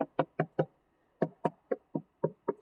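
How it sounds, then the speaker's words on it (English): Knocks on a plastic bottle, delivered as two quick bursts of dull, close thuds: four rapid raps, a brief pause, then seven more in a steady rhythm, with no talking. "Polymers, like plastics, tend to thud. And I did an example where I knocked on this bottle."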